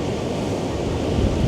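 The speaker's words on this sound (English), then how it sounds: "There's some big waves coming in." A dense, loud roar of storm surf and wind at Porthleven harbour in Cornwall, waves pounding the pier in a continuous wash with no distinct individual crashes.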